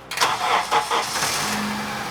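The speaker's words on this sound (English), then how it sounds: "Cranking up." A Honda CR-V with a power-loss fault cranks in a few quick pulses, catches, and settles into a steady idle hum, fairly close and moderately loud, with no voices.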